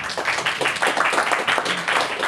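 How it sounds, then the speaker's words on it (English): A conference audience at a GNOME developer talk on enterprise identity claps in a continuous, moderately loud burst of applause, dense and uneven. "please give an applause"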